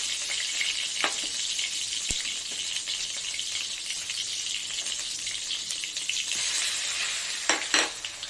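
Masala of cumin, chilli, turmeric and ground green chilli frying in a pan, a steady close sizzle with scattered spatula clicks and scrapes, a few louder stirring knocks near the end.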